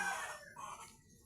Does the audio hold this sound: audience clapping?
no